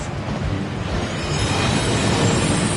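A video game waterfall roars as a continuous broad rushing wash, loud and close, swelling slightly midway and holding steady to the end, with no speech.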